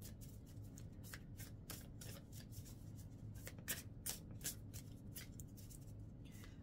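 Astrology cards being shuffled on a table, a steady run of close, soft riffling flutters and taps repeating throughout over a low background hum.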